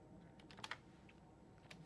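Code is typed on a computer keyboard in a few faint, quick key clicks with gaps between them, soft against a quiet room.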